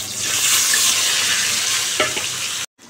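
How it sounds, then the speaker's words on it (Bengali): Cut potato pieces fry in hot oil in a home kitchen, a loud, close, continuous sizzle with a stir near the end before it cuts off abruptly. "আলুটা লাল করে ভেজে নেব।"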